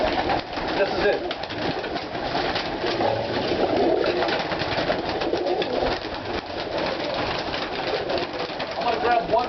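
Roller pigeons coo in a loft, a steady low murmur of many birds close by that carries on throughout with no break.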